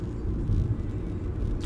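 A car reversing nearby, heard as a steady low engine rumble with no clear beeps or changes, continuous and fairly loud throughout.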